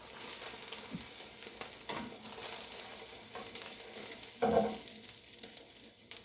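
Omelet egg sizzling in a frying pan, a steady soft hiss with occasional louder spatula scrapes as it is folded.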